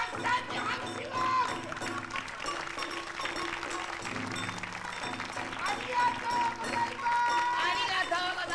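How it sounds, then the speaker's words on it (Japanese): A stage audience applauds during a 1989 Japanese daikagura juggling act by Somenosuke and Sometarō, the clapping spread across the hall and mixed with a performer's lively patter and background music. "たくさんに拍手を。"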